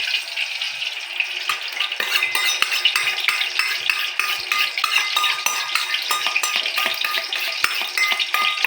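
Beaten egg seasoned with salt and food colouring hitting hot oil in a pan for restaurant-style egg fried rice, a steady bright sizzle with dense crackles and pops running throughout, close and continuous with no talking.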